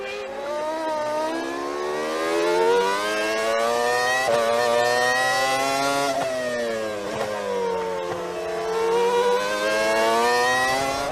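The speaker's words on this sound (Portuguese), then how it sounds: "Vamos curtir um pouco aí o ronco do motor Mercedes." Mercedes engine of a Formula 1 car roaring at high revs during a race, a loud sustained whine that rises and falls in pitch through gear changes and passes for eleven seconds, with no talk over it.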